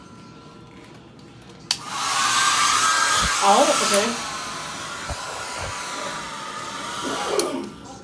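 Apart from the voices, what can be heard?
hotel room blow dryer running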